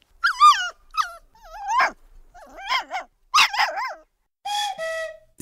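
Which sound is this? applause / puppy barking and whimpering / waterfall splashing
puppy barking and whimpering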